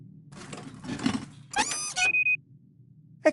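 The engine of a town model in the video game The Book of Unwritten Tales 2 sets off a short mechanical sequence: rattling clunks, then a squealing whir and a brief sustained tone, ending in a sharp click.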